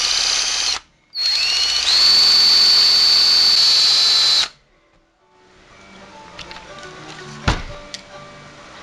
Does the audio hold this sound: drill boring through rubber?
yes